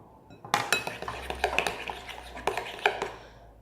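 A spoon clinks and scrapes against a bowl while slime is stirred, giving a close, steady run of light metallic taps and knocks in an uneven rhythm.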